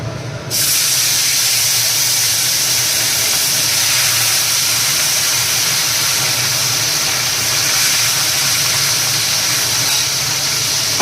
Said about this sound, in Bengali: তো চলো এখন মাছগুলো একটু ভেজে নিই